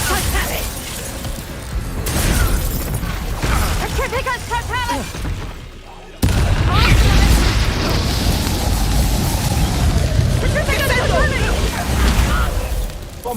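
Spell blasts from the video game Hogwarts Legacy, an Incendio fire spell among them, burst and boom in two heavy bursts with crackling and whooshing effects, while a voice speaks in between.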